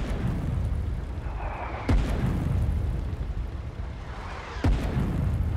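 Artillery shell fire in the Foxhole war game, with two sharp booming blasts a few seconds apart cutting through a constant low rumble of battlefield ambience, no voices over them.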